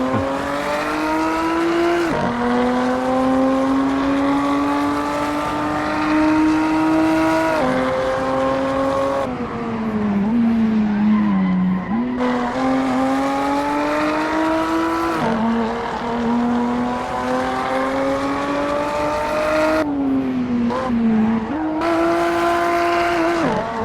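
A Maserati Levante S engine drones steadily at high revs in the Assetto Corsa racing sim, its pitch climbing through each gear and dropping sharply at several shifts across a continuous hot lap.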